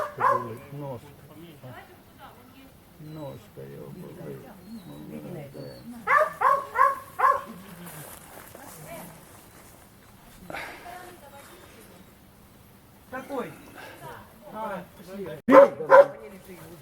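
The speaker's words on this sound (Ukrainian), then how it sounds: "Умниця, умниця, хороша собака." A dog barks in a few short bursts close by, mixed in with people talking and praising it before a vehicle leaves.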